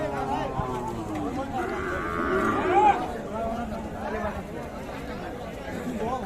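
A busy cattle market at Ambari haat: a cow moos amid crowd chatter and overlapping voices, with animal calls rising and fading in the background.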